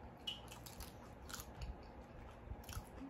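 Crunchy El Pollo Loco chicken skin bitten and chewed close to the mic, a quiet run of crisp crunches and mouth sounds repeating over about three seconds, with no talking.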